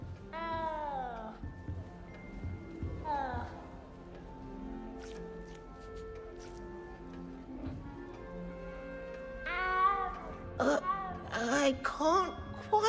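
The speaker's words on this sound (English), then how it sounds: "You don't need to be frightened, little cat." A small frightened cat in the video game Hogwarts Legacy lets out repeated drawn-out meows in bursts, some rising and wavering, against quiet game ambience with occasional clicks.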